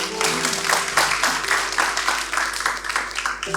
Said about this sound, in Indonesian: Tepuk tangan buat Eni.